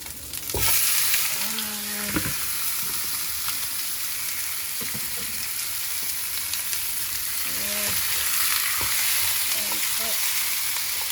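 Chicken pieces fry with ginger in sesame oil, a dense, continuous hiss of sizzling heard up close, broken by occasional scraping stirs and a few brief squeaky tones against the pan.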